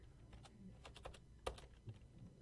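Rapid clicking of typing on a computer keyboard while drafting a cube tool box sides blueprint in AutoCAD, with irregular close keystrokes and one sharper key strike, no voices.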